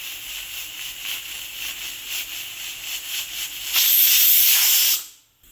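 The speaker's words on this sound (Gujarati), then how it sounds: "કુકરમાં 3 વિસલ થઈ ગઈ છે." A pressure cooker full of tindora and potato curry lets out a steady, loud hiss of steam that swells into a sharper, brighter whistle burst near the end before cutting off abruptly, with no voices.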